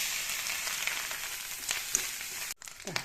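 Mustard seeds, three dried chillies and curry leaves fry in coconut oil in a pan with a dense, steady sizzle and a few pops, then a sudden drop followed by quieter crackles.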